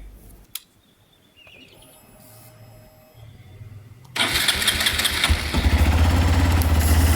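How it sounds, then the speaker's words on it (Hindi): A motorcycle being switched on before a portable tire inflator is plugged into its cigarette lighter socket: a few faint clicks, then the engine starts loudly and settles into a steady, close idle. "तो इसको लगाने से पहले मुझे बाइक को ऑन कर लेना चाहिए"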